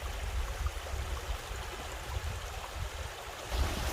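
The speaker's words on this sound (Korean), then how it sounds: "마을 앞으로 이렇게 계곡물이 지금 흐르고 있거든요" Mountain valley stream flowing past a village, a steady broadband rush of moving water with a low rumble, constant and fairly close, with no voices.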